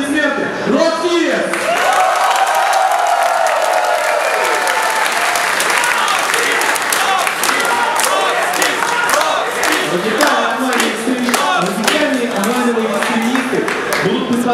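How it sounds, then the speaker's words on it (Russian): Loud, sustained audience applause at a LAN esports final, a dense wash of clapping and crowd noise filling the hall, with cheers and an announcer's voice rising over it. "В любом случае, ваши аплодисменты, Роскиев!"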